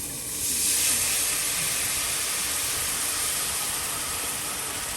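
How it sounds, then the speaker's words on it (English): Wine poured into a hot pan to deglaze it sends up a loud, steady steam hiss that swells quickly and holds, broad and continuous, with no voices. "We're gonna let that deglaze the pan."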